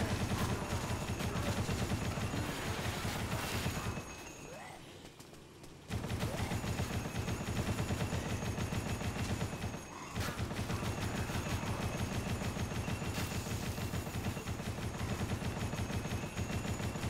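A gun in the Dead Rising game fires in rapid, sustained automatic bursts, loud and continuous, broken by a brief pause near the middle and a short gap later.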